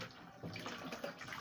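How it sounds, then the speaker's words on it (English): Vegetables being washed in a basin of water, a soft continuous splashing and swishing close by, quiet and steady with no talking. "wash the vegetable."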